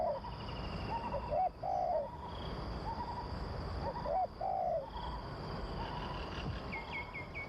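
A male dove kept by the Jawi of Southern Thailand for song competitions gives repeated rolling coos in short phrases, clear and fairly close, over a steady background of insects and other distant birds.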